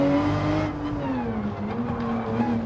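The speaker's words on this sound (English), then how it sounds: "Pushing these tires to the limit. They're starting to slide across the track." Porsche GT3 racecar driven at the limit on a race track, its engine droning steadily with a tonal whine as the tires slide, loud and close throughout without pause.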